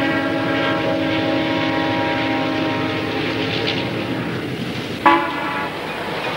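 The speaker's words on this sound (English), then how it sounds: "Except the morning train to Tampa." The morning train to Tampa passes through the small town of Kissimmee, its horn sounding in a long, loud harmonic blast, then a short sharp toot near the end over a low rumble.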